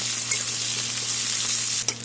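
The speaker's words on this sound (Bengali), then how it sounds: "পেঁয়াজটা মোটামুটি ভাজা হবে" Onions frying steadily in a pan with nigella seeds and green chillies, giving a continuous bright sizzle with a small clack near the end.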